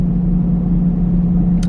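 A worn-out car's engine gives a continuous low, even rumble from inside the cabin, loud and steady throughout, with a faint brief rattle at the very end.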